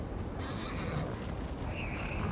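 A horse in The Last of Us Part 2 gives a loud whinny over a steady, dense background of movement noise, with a brief higher neigh near the end.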